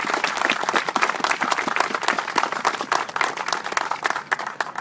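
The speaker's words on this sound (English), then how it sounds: "Let's give a round of applause for Delegate Ware." A crowd at a Convention of States rally in Virginia gives sustained applause, a loud dense wash of many hands clapping together for a speaker, continuing evenly throughout.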